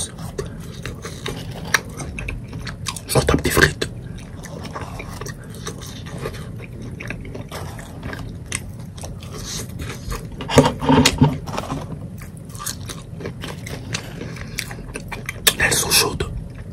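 Crispy chicken tenders inside an XL taco crunch as they are bitten, with three louder crackling bites spread apart and quieter chewing and wrapper rustle between them, very close to the ear.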